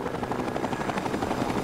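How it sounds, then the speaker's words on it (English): A video game helicopter flies in a rooftop scene set around the Lucky 38, giving a steady, loud, throbbing rotor chop with no talk over it. "there's a helicopter."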